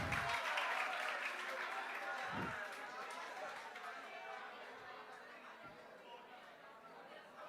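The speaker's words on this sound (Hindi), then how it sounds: "तालियां कम बज रही हैं, सभी लोग आपके टीममेट हैं।" A stage-event audience at a Prayagraj coaching class claps, the broad applause loudest at first and then thinning and fading while voices carry on over it.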